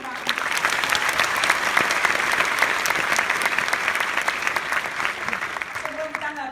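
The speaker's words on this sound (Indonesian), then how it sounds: "Terima kasih Pak Ward, kita kasih tepuk tangan." An indoor audience at a live talk-show stage event in the Netherlands claps steadily and loudly throughout, a dense even applause with no pause.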